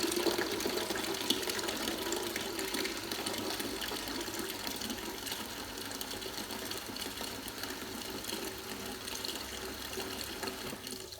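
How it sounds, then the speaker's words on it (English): A Britvic cool dispense system refills its line with syrup, giving a steady mechanical pump whir and rushing liquid flow that runs evenly throughout, close and moderately loud. "Now all we're doing is just refilling the line like we did with water"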